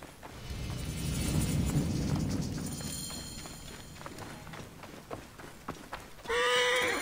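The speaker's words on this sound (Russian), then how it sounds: "Здесь рядом стоят лошади." Horse hooves clop along at a steady walking rhythm amid ambient rumble in the video game Assassin's Creed: Origins, followed by a loud horse whinny near the end.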